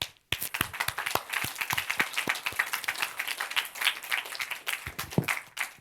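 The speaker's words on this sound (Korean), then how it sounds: "그리스도께 영광의 박수" A congregation claps during a Korean church service, sharp and fairly quick claps that become a lively, full round of applause close by, with no talk over it.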